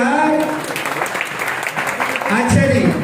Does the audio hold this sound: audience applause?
yes